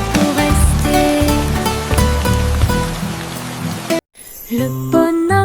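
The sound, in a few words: raindrops falling, rain sound in a children's song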